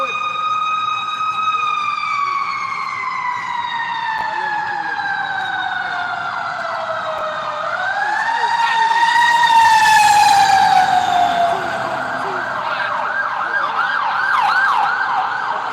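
Several fire truck sirens wail loudly and continuously, their tones sliding down and then sweeping back up as the vehicles pass close by, with a faint voice barely audible beneath.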